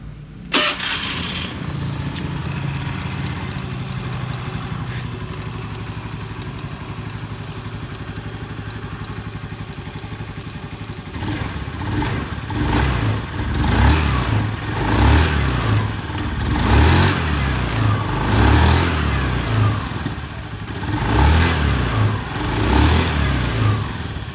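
Motorcycle CVT engine after a bearing installation, cranking and starting, then idling before several loud revving bursts in repeated waves, close and alone.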